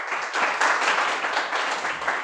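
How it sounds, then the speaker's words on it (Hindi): Audience applause at a business seminar on the RCM business plan, a steady dense wash of clapping that holds at an even level for a couple of seconds with no voices over it. "तो एक बार मैं बहुत ज़ोरदार तालियां चाहूँगा सुरेश जी के लिए।"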